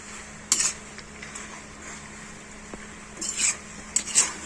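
Indian-style pasta being mixed in a pan, soft scraping with a few sharp clinks of a utensil against metal over a quiet background, no speech.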